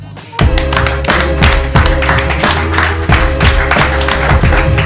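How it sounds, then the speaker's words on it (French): An audience at a French live stream hypnosis show applauds a guest's entrance, with loud, close clapping laid over a booming, rhythmic music beat that thumps steadily throughout. "Je vous demande d'applaudir bien fort Emma Loisel"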